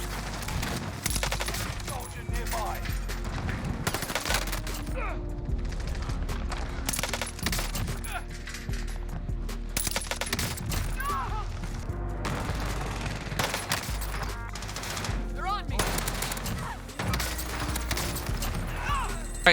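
Rapid gunfire from an STG and an MP40 in the video game Call of Duty Vanguard, with dense bursts and shots that run continuously through the whole stretch at a steady, fairly loud level.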